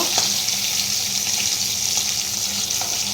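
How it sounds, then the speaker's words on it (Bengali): Hilsa fish frying in oil in a home kitchen, a steady, dense hiss of sizzling that continues evenly throughout, close and fairly loud with no talking. "এইদিকে দেখো একটু ইলিশ মাছ ভাজা করছি"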